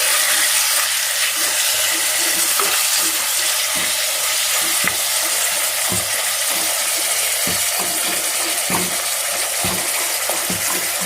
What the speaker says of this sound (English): you can see it is already heated up. Let's add mutton curry directly. Sorry, the mutton directly into this.